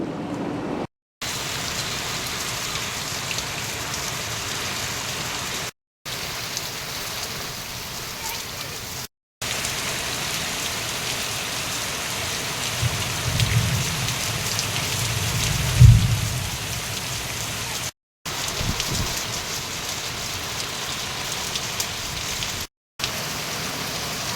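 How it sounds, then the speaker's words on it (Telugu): Heavy rain with hail and strong winds pours down in a dense, steady roar across a long stretch, broken by a few brief silent cuts, with a low gusty thump partway through. "ఈదురుగాలులతో కురిసిన వడగళ్ల వానకు లోతట్టు ప్రాంతాలు, రోడ్లు జలమయమయ్యాయి"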